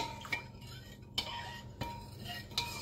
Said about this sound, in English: We shall give it a stir.